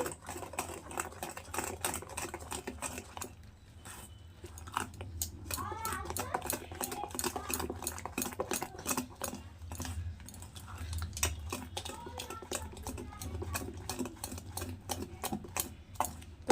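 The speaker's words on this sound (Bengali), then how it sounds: "ময়দাটাকেও খুব ভালো করে মিশিয়ে নেব" Flour mixed by hand into malpua batter with semolina and sugar in a bowl, producing rapid, rhythmic clicking and tapping strokes that run steadily throughout, with a voice speaking intermittently over them.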